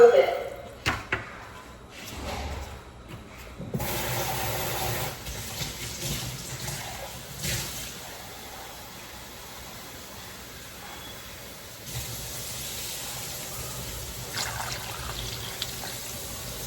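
Water runs and splashes steadily into a pot of pig feet for several seconds, with a few clanks at the start.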